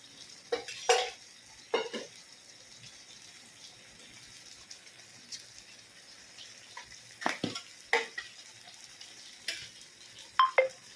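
A spoon stirs okra frying in a pan with salt and turmeric, giving sharp scraping clinks at irregular intervals over a faint, steady sizzle, close by, with no talking.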